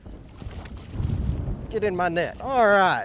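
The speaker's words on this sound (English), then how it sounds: "What's turned out to be a really windy day." Wind buffets the microphone on Bull Shoals Lake, Arkansas, during a smallmouth bass fishing trip, a low rumbling gust up front that continues under a man's speech.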